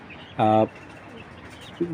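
Genuine Netherlands racing pigeons give a short, close coo, followed by a second fainter call, over a quiet background with a voice talking.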